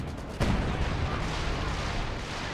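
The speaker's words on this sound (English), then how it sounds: "Werfer fire into the middle, probably on my MG." Panzerwerfer rocket artillery barrage in Company of Heroes 2: a sharp boom at the start, followed by a dense, sustained rumble of rocket impacts and explosions that holds steady and loud for about two seconds.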